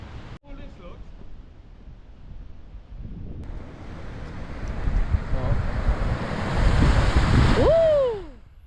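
Rushing water from a fast-flowing woodland river in Italy, a broad steady roar that swells louder and closer toward the end before fading sharply, with wind buffeting the microphone.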